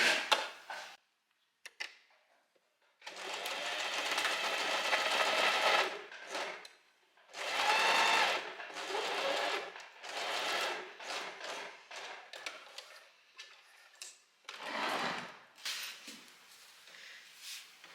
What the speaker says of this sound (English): I'm going to sew a straight line from here to where the needle is